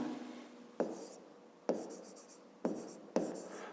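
Pen writing out a fifth-grade geometry solution on paper, a quiet scratchy stroke sound broken by four sharp taps as the pen touches down, close and isolated, with no talking.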